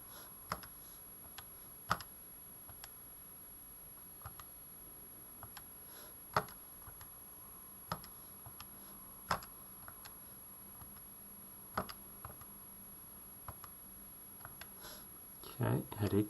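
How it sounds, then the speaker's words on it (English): Calculator buttons being pressed to enter an expression, sparse sharp clicks spaced a second or two apart, close but light, over a faint steady background hum. "all we need to do now is just type the expression that we have in here on the left hand side into our calculator"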